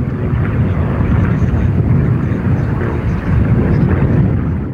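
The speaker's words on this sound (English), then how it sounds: "a final strafing run by all three aircraft" Three WW2 fighter planes, including a Boomerang, make a low strafing pass at a Pacific-themed air display, a loud, steady, rumbling engine roar that fills the whole stretch with no talking.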